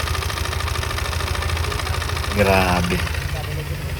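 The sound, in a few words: Yamaha NMAX V2 scooter engine knocking, metallic tinny sound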